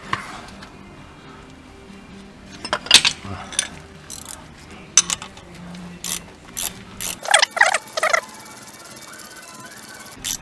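A ratchet loosens the nut on a suspension ball joint of a Renault Scenic, giving close, sharp clicking bursts in irregular runs. Quiet pauses and light handling noises fall between the bursts.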